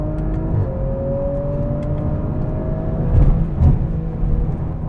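A 2018 Audi RS5 engine revs hard toward redline, a rising whine over a steady drone with a couple of sharp bursts near the end, heard from inside the cabin without talk.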